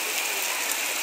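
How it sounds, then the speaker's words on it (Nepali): Steady monsoon rain in Kirtipur, Nepal, a dense continuous hiss that fills the scene without pause, with no voices over it. "दामी पर्यो पानी"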